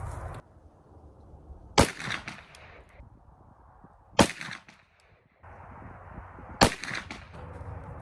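A Ruger LC carbine fires Underwood ammunition three times, each shot a loud, sharp crack with a short tail, spaced roughly two and a half seconds apart and heard with no voices.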